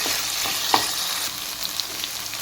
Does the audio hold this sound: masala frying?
yes